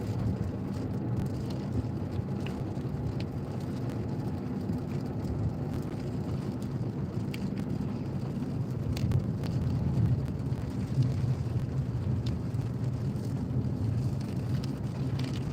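A car driving through rain in Hengelo, the Netherlands, with a steady low engine and road rumble and a constant wash of rain and wind noise throughout, close and continuous with no talk.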